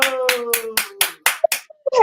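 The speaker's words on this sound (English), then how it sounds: "let's give a great big round of applause for Michelle's first time live" At a live podcast show, about seven evenly spaced hand claps ring out close and loud in a quick rhythm, then fade out as a voice begins.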